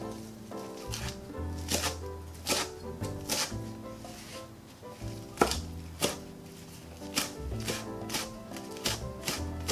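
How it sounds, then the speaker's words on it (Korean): A knife finely chops about ten perilla leaves on a cutting board, producing quick, uneven rhythmic taps at close range during Korean holiday dish preparation. "깻잎은 한 10개 정도만요 쫑쫑 잘라서 같이 넣어 줄 거예요."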